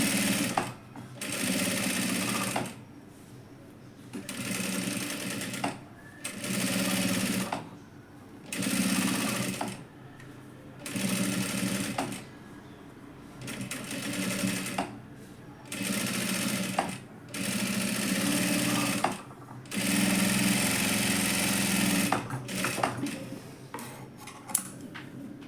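Sewing machine stitching a lining onto saree blouse fabric, running in repeated bursts of a few seconds each separated by short pauses, close and fairly loud with no talk.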